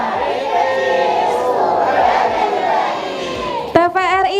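A group of children in a televised Islamic youth preaching academy show chant a spirited cheer together, a loud, steady crowd of young voices sustained throughout, ending in a sharp burst of rhythmic shouting.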